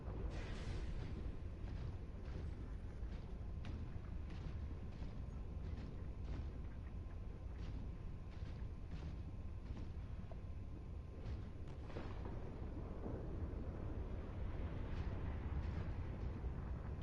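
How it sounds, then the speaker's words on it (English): Explosions rumble through an underwater base in the game Subnautica Below Zero: a steady, heavy low roar with a few sharper bursts, loud and continuous for the whole stretch without any talking. "all these explosions are just like 2 steps away from killing you all the time"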